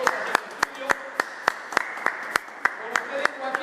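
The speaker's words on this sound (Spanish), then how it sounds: "Vamos a recibirle entonces con este aplauso" A small group applauds to welcome Joaquín and Nuria as guests on a studio program, sparse distinct claps in an uneven rhythm close by, with a faint voice underneath.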